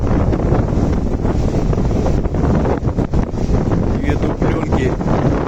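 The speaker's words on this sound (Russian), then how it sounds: "Ой, какие волны, это же какой-то ужас." Storm surf and strong wind batter the Black Sea coast at Divnomorsk, with waves near three metres, roaring continuously as a loud, dense wash with heavy wind buffeting on the microphone and a brief spoken remark.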